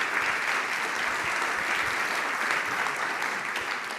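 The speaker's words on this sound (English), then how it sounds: "Let's give him a warm round of applause." A conference audience applauds steadily for about four seconds, a dense, even wash of many hands clapping with no voices on top.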